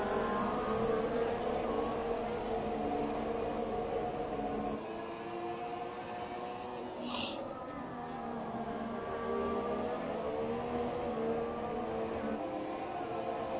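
A race car in a sim racing game at full throttle, with a steady high engine whine that drops slightly mid-way, then holds its pitch under a broad background roar.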